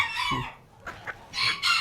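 A tiny imported ornamental chicken clucks in a few short, close bursts separated by brief pauses, with no talk over it.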